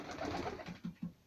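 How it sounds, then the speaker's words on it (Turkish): Adana breed diving pigeons cooing close by, a brief burst of soft throaty coos ending in two short pulsing notes. "Bunlar Adana cinsi güvercin."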